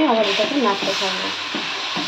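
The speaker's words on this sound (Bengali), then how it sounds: "আবার এটাকে নাড়তে থাকবো" A spoon stirs caramel and milk in a pan over low heat, giving a soft, steady sizzling scrape, while someone speaks briefly at the start.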